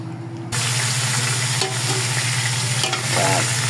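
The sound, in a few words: sautéing aromatics in a hot pot for lauya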